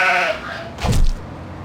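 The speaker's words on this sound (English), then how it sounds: "you can find a farmer chasing a sheep" A single short sheep bleat from a video game, close and clear, against a quiet background hum.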